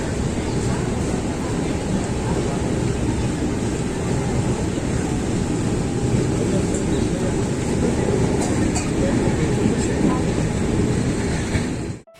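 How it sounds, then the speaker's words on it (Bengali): A 12610 MGR Chennai Central SF express train pulls out of Whitefield station near Bengaluru, its steady, loud rolling rumble and rail clatter continuous throughout until an abrupt end. "হোয়াইট ফিল্ড ছেড়ে এখন ট্রেন বেরিয়ে যাচ্ছে"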